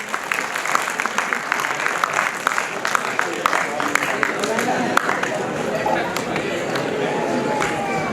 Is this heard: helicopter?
no